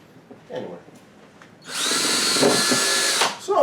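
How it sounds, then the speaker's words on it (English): A power drill bores air holes into a plastic container lid for a worm farm, starting after a short quiet stretch and running as one loud, steady, close whine for about a second and a half before stopping. "So, Zachary, do you think you can drill some holes in here?"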